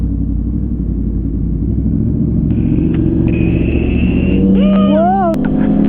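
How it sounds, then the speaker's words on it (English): A dirt bike engine runs with a steady low rumble, and it rises near the end with revving pitch sweeps. Faint voices can be heard under it. "Oh, the dirt bike."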